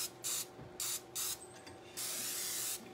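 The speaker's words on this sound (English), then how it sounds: "The recipe actually says to butter the dish, but Pam works just as well." Pam cooking spray misted onto a baking dish being prepared for a cheesecake: several short hissing bursts in an uneven rhythm, then one longer spray, close and fairly loud with no talking.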